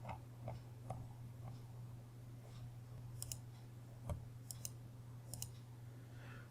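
A computer mouse gives a few faint, sharp clicks spaced irregularly over a low steady hum.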